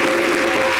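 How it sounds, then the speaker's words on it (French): Audience applause at a French television variety show, a dense, loud, continuous wash of clapping from a crowd. "Est-ce qu'on peut applaudir?"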